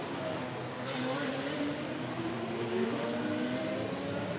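Formula 3 race car engines during qualifying at the Macau Grand Prix, a steady continuous drone of engine noise with shifting pitch as cars run toward the Lisboa bend, loud and unbroken throughout.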